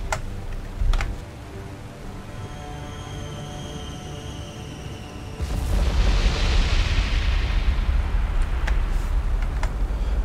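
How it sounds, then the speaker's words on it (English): Ship magazine explosion in War on the Sea: a thick, sustained roaring blast erupts midway and rumbles on without fading, preceded by quieter ambient engine drone and a few sharp ticks. "We even got a magazine explosion on that"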